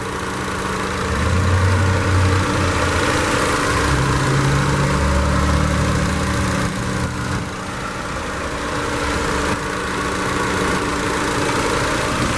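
A 2018 Honda Civic LX four-cylinder engine idles steadily at close range, a smooth low hum with a constant mechanical drone and faint vibration throughout.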